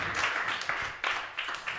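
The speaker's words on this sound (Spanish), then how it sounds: "Merecen un aplauso nuevamente los gombrowiczianos." Applause from a live audience at a literary debate, a brief burst of clapping that swells and fades in uneven waves, fairly close and with no voices over it.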